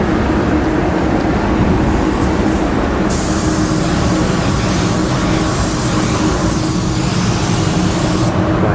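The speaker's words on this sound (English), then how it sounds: "I'm going to just spray it on all those sealer edges" Loud, continuous hiss of a Sagola Mini Xtreme spray gun with a 1.0 mini EPA air cap misting US4 temperature reducer onto sealer edges, a steady close spray with a brief tonal shift partway through.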